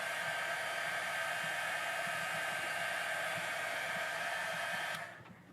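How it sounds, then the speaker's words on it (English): Heat gun blowing steadily to melt black embossing powder on a papercraft sheet, a loud, even rushing whoosh like a hair dryer that runs alone for about five seconds, then cuts off. "taking the heat gun and melting the powder away"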